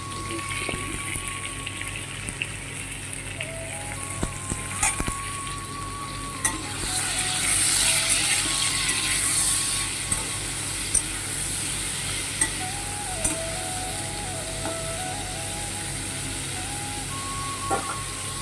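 Cabbage fries in a pan while being stirred, a steady close sizzle with scraping stirs and occasional clicks, and a faint electronic beeping in the background.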